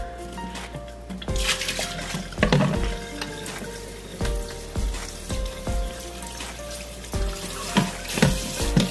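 Running tap water splashes over eggplants being rinsed in a home kitchen sink, with repeated clatters and knocks of vegetables and dishes against the basin and no talking.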